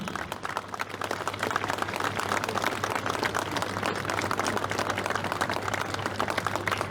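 Audience applause at a political rally, a steady, even wash of many hands clapping throughout, dense and moderately loud, with no talking over it.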